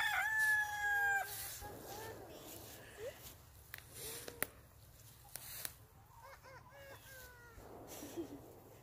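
Several roosters crow on a farm, their long cock-a-doodle-doo calls overlapping near and farther off, with clucks scattered between them and people talking quietly nearby.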